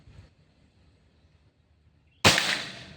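A single sharp crack from a Pajero Gun Gen 6 air rifle during a target accuracy test, fired after a near-silent pause and followed by a quick decaying ring.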